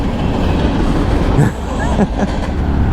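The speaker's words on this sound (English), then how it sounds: "I'll watch the train go." A train rolls past on railroad tracks in the United States, a steady dense rumble with wheel clatter filling the whole stretch, close and loud, with faint voices mixed in.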